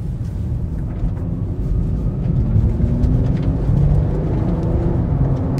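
A Nissan Z Nismo with a 9-speed automatic gearbox is heard under way as a steady, loud low engine drone with road rumble, rising slightly in pitch as it gains speed. No one talks over it.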